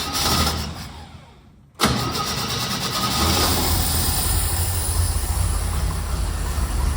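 A one-ton truck engine with no coolant in it cranks, goes quiet for a moment, then catches and runs at a loud, steady idle close by.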